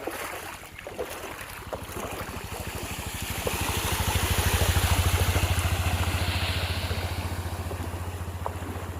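A motorcycle engine chugs steadily with a low pulsing rumble while splashing water hisses around it, swelling louder mid-way before easing off, its silencer fully submerged as it rides through water.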